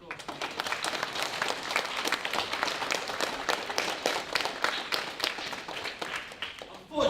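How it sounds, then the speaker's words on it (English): An audience at a school assembly applauds the boys' football team with dense, sustained clapping from many hands, close and fairly loud, lasting the whole stretch. "So can we give those boys a round of applause?"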